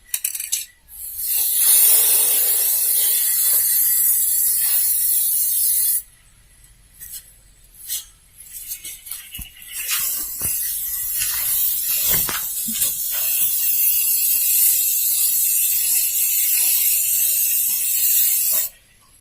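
Spray paint is applied to a sewing machine, producing loud, close bursts of sharp hissing. A long spray is followed by a quiet gap with a few short puffs, then another long, steady hiss.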